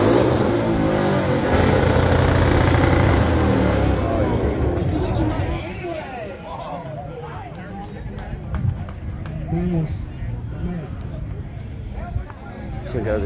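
Car engines revving hard at a rev competition during an outdoor Meca car show in Louisville, Kentucky, a loud sustained roar that fades to a lower rumble, with crowd chatter and voices throughout.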